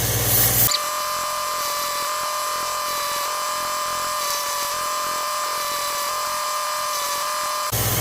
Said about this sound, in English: Nice and easy, let the sander do the job it's supposed to.